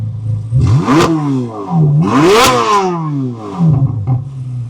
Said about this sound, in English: I'll do a quick rev and then I'll go to track mode